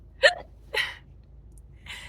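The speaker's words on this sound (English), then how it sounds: "I have the hiccups like crazy" A woman hiccups three times in about two seconds, sharp close little gulping catches separated by brief quiet, with faint room noise underneath.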